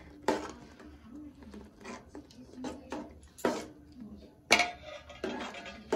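Cashews and raisins stirred into payesh in a pot, with bay leaf and cardamom already in, give a series of close, irregular spoon-on-metal scrapes and knocks, a few sharper clanks standing out over a faint background hum.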